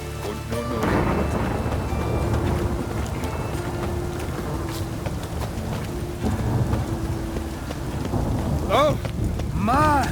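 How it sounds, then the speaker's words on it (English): Rain hisses steadily through a thunderstorm in The Witcher 3: Wild Hunt, with rumbling thunder low underneath and a few sharp tonal game sounds rising near the end. "Rain again."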